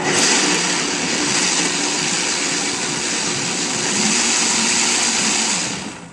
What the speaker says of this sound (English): don't overwhelm your blender